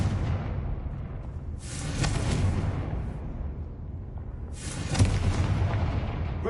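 Two booming magical blasts from the Confringo explosion spell in a Hogwarts video game, each a broad burst about three seconds apart over a steady rumbling game ambience.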